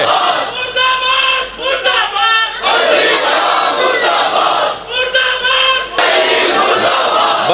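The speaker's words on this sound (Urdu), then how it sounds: "اب لگائیے مرد آباد" At a religious gathering, a large crowd chants the slogan murdabad in loud, rhythmic bursts that repeat in waves with brief dips between them.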